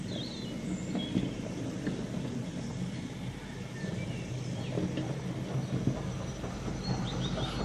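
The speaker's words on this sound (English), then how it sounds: "A Great Western Dean goods loco has arrived to help" Model railway Great Western Dean goods locomotive running: a faint, steady low rumble of rolling wheels with soft clicks and light chirping sounds, with no voices.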